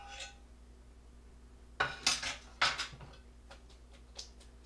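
Cooked rutabaga fries are tipped from a pot into a strainer, giving a few close metallic clanks and knocks of pot against strainer followed by lighter ticking clinks.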